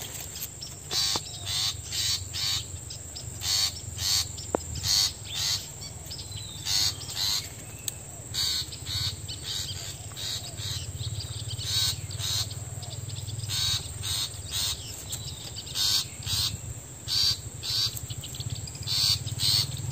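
A female bird, the hen of a pricey cage bird, calls repeatedly in bright chirping bursts at a steady pace, fairly close, over a constant low hum, with no one speaking.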